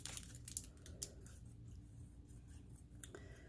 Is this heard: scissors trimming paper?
yes